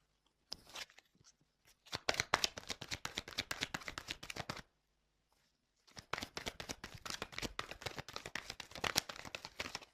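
Tarot cards are shuffled close by in two bursts of rapid, crisp riffling and flicking, separated by a short pause, with no talking.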